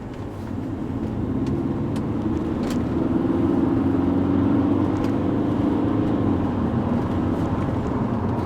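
Audi A4 Cabriolet B7 2.0 TDI diesel with Multitronic gearbox in sport setting, steady engine drone building gently as the car accelerates, with subtle stepped pitch shifts and road rumble heard from inside the cabin.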